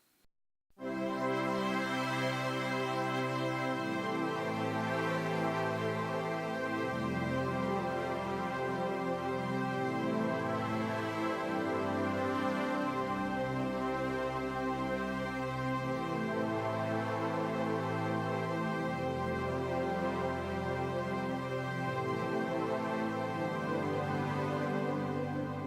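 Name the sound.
keyboard playing chorus of a song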